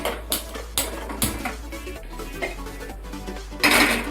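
Metal clatter of a flat griddle pan (tava) being set onto a gas stove, a series of close knocks and scrapes with a brighter clank near the end over a steady low burner hum.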